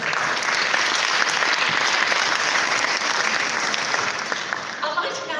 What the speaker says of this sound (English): can I get a big round of applause, please